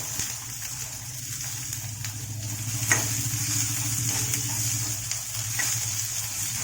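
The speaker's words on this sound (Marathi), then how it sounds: "हा कांदा भाजून घेणार आहे" Onion cut in large pieces fries in a pan with a steady, close sizzle and occasional stirring taps, under a constant low hum from a stove or fan.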